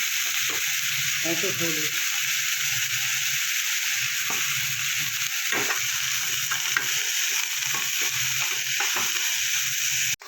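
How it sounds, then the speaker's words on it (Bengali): Bethua leafy greens frying and being stirred in a pan, a steady close sizzle with occasional spatula scrapes and clicks throughout, while someone speaks briefly. "শাকটা আমার অনেকটাই ভাজা হয়ে গেছে"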